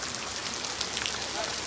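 Steady rain falls in gloomy, stormy weather, making a dense, even hiss of drops on surfaces that stays constant and fairly loud throughout, with no other clear sounds.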